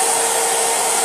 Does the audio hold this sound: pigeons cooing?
no